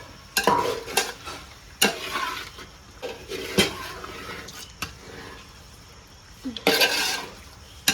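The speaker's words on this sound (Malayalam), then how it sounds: "നമുക്ക് നന്നായിട്ട് ഇളക്കി കൊടുക്കാം" A spoon scrapes and clanks repeatedly against a pan in irregular strokes, over a soft sizzle of frying chicken curry.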